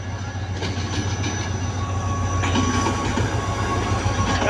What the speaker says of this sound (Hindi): जैसे कि आप देख रहे हैं ट्रेन आ रही गाइस